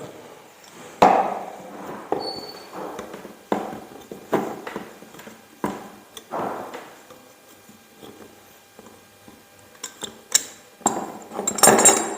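A spanner loosens fittings on a spray painting gun during cleaning, giving a series of sharp, irregular metallic clicks and knocks, close and fairly quiet, with no talking.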